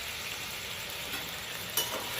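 Ground spice paste sizzling in hot oil for a filling, a steady, close crackling fry with a brief louder splutter near the end; no voices.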